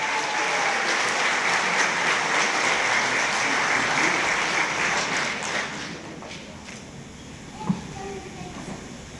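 An audience at a youth awards gala in Mielec gives sustained loud applause that fades out after about six seconds, leaving a quiet hall with a single sharp knock.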